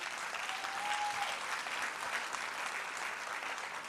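An audience at a professional development event applauds early years practitioners, a dense, steady wash of many hands clapping throughout, evenly loud with no break.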